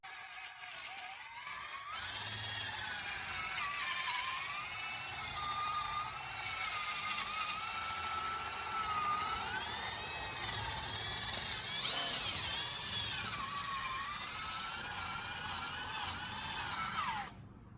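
A rotary sanding disc whines steadily at high pitch, grinding against a hazy plastic Fiat 500 headlight lens kept wet with water; the pitch wavers slightly as pressure shifts, running continuously throughout.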